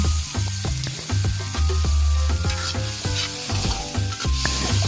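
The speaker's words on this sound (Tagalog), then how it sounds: "so gisa-gisa lang." Tomatoes sautéed in a pan for a hot squid stir fry give a loud, close sizzle with rapid scraping and clacking of the utensil against the pan, and nobody talks.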